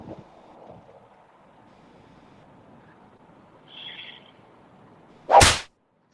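A single sharp slap sound effect cracks loudly near the end, following a quiet stretch of low background hiss and a brief faint tone.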